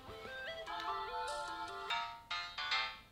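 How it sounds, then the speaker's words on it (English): A bright electronic flip phone ringtone plays a quick stepping melody of beeping tones, clear and close, with no voices. "The first thing you do when you have a new phone is select a ringtone."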